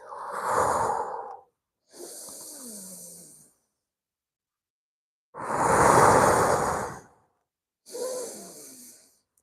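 Deep breaths drawn in and slowly exhaled during a qigong session, four separate breathy swells, close and clear, with some airy, almost sighing exhales and no talk over them.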